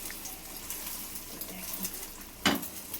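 Egg frying in a pan for an egg roll, a soft, steady sizzle close by with faint scraping, and a brief louder clatter near the end.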